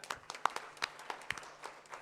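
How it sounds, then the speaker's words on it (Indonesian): A church congregation at a Salvation Army service in Surabaya breaks into sharp, scattered clapping, uneven bursts of hand claps at close range with a faint murmur of voices. "memberikan tepuk tangan"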